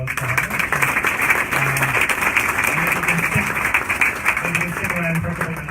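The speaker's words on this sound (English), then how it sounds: "Maybe we can have a round of applause for Harry." Audience at a conference talk applauding, a steady dense wash of clapping lasting several seconds with a voice briefly heard underneath.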